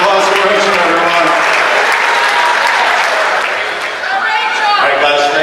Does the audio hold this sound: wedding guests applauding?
yes